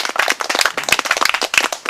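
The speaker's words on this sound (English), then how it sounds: "You can clap if you want" A small audience claps after a story reading at a stories-and-songs evening, with a short burst of distinct, uneven hand claps from a handful of listeners.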